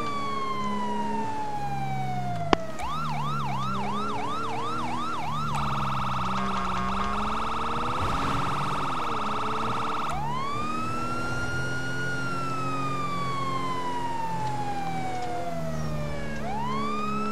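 A police siren from the FiveM game cycles loudly and continuously through rising-and-falling wails and rapid yelp patterns, with abrupt switches between tones and no talking.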